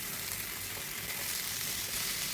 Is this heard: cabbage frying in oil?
yes